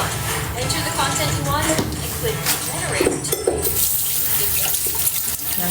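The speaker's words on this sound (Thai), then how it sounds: "ล้างหน้าดีกว่านะ" Tap water runs steadily from a faucet while someone washes their face, with splashing and light clinks, and voices talk intermittently over the flow.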